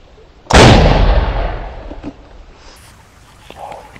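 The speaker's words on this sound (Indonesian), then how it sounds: "Mercon Spiritus Legend, kita coba nyalakan, kita dengarkan bareng-bareng ya seperti apa suaranya." A large spirit-fuelled firecracker (mercon spiritus) fired from a jumbo tube goes off in one sudden, loud, deep blast, and the boom rolls and fades over a few seconds.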